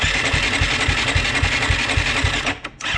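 A KTM 950 Adventure motorcycle's electric starter cranks the engine with a fast, steady, rhythmic churning, loud and close, briefly dropping away near the end.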